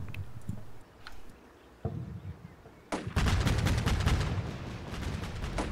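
Cannon fire in a military video game, a few sharp distant thumps followed by a sustained burst of rapid heavy firing, growing louder toward the end.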